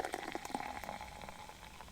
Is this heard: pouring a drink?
yes